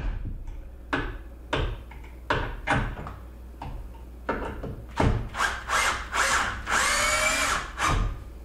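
A power drill drives coated screws through foam and wood into a deer skull mount, with a series of short whirring bursts that build into longer, higher-pitched runs, close-up and loud.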